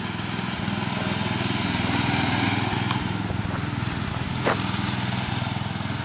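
A restored Grass Cat tractor's small engine runs steadily and loudly close by, a continuous buzzing drone with rapid firing pulses and a slight rise in revs midway, with no talking.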